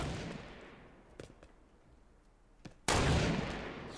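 Sharp gunshots in Fortnite: a few single cracks, then a loud close blast with a long echoing tail.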